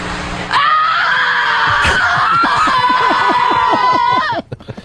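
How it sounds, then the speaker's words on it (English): A woman lets out a long, loud, piercing scream of frustration that holds for several seconds, shifting into a choppy, strained, almost sobbing cry before breaking off. "That's just a scream of frustration."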